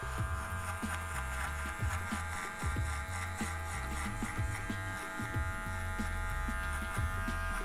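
An Algold electric hair clipper cutting hair, a steady close motor buzz with faint intermittent crunching snips as the blades pass through the hair, heard alone without speech.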